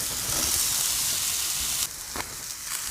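Baby bella mushrooms and red onions sizzle in a hot pot, a loud steady frying hiss that shifts slightly as food is stirred near the end.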